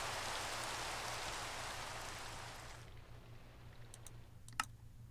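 Steady rain falls in the Minecraft video game, a soft hiss that carries for about three seconds, then stops, leaving faint ambience and a few sharp clicks.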